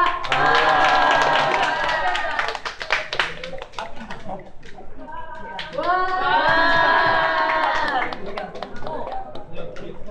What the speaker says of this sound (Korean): 힘찬 박수로 모셔보도록 하겠습니다.